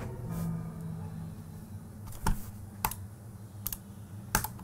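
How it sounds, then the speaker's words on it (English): A computer mouse clicks sharply in quick, scattered bursts over faint background hum, with soft keyboard-like tapping mixed in, heard close and fairly quiet. "You're clicking that mouse like you're a pro clicker."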